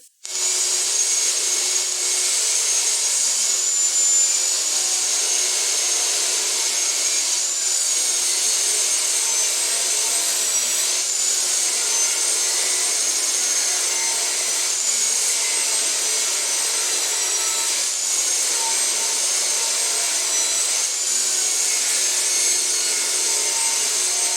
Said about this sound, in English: Then we will rip all the maple boards down to 3 inches wide.